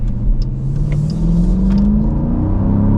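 A 2026 Dodge Durango R/T 392 V8 revs up close and loud, its deep rumble climbing steadily in pitch over three seconds with no talking.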